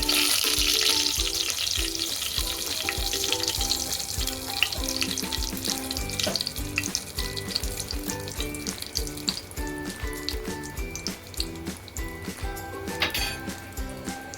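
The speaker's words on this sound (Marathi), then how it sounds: "तेल गरम झालं तर त्याच्यामध्ये दालचिनी आणि तेजपत्ता टाकायची" Cinnamon and bay leaf drop into hot oil in a cooking pot, crackling and sizzling while a utensil clinks and scrapes in an irregular rhythm, with no talking.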